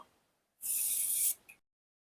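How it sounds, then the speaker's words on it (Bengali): Scraping strokes of a peeler over cut carrot pieces, one sustained rasping pass followed by a short second scrape, close and clear with no talk. "এরপর এগুলোকে আমি ছুলে নেব।"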